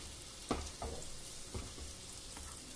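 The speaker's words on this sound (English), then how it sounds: "Heat some oil and shallow fry the dumplings so that they just get a light color on them." Cottage cheese dumplings shallow frying in hot oil, giving a steady close sizzle with a few soft bumps and stirring touches, no voices.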